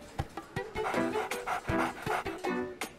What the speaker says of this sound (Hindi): ये कुत्ता?